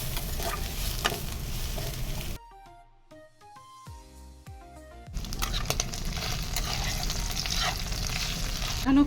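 Food fries in a small pan with a loud, crackling sizzle close up, interrupted midway by a few seconds of soft musical tones before the hiss returns.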